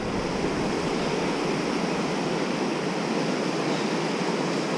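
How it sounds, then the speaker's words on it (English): A glacial meltwater river rushes over rocks in a constant, dense roar of flowing water, loud and unbroken throughout, heard from a trail above the bank. "That's a full-on river, all right."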